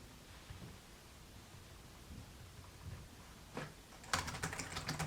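Typing on the keyboard of a Chuwi Hi12 tablet, soft light key taps over a steady hiss, then a quick, louder burst of rapid clicking near the end, close up.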